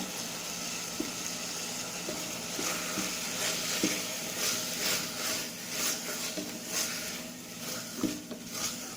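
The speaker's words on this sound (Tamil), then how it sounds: "இது நல்லா வதங்கணும் தக்காளி." Tomatoes with mint and coriander leaves sauté in a hot pan with steady sizzling and occasional stirring scrapes and light utensil clinks, close and continuous throughout.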